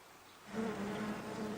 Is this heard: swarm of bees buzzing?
yes